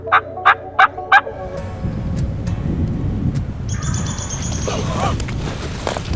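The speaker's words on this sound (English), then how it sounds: "hopefully he keeps gobbling" A wild turkey gobbles four times in quick succession, loud and fairly close, followed by open outdoor ambience with rustling and faint birdsong.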